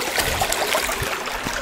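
Mountain stream in the Cranberry Wilderness, water flowing and trickling close by in a brief steady burble.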